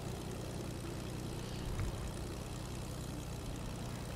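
A propeller airplane flying in the video game Fortnite Air Royale, a steady low engine drone held at an even, fairly quiet level throughout.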